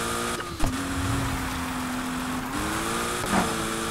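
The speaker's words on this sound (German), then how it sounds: "Während wir entkommen der Polizei hier, driften wir noch ein bisschen, aber es ist halt das falsche Auto zum Driften." A car engine while drifting in Need for Speed Heat, during a police escape: a sustained, fairly loud engine tone holding steady, with a quick pitch drop and a couple of short thumps and revs.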